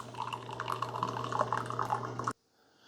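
A Keurig K-Express single-serve coffee maker runs a freshwater rinse, water trickling and dripping with a steady low pump hum underneath, close and fairly quiet, then cutting off abruptly into near silence.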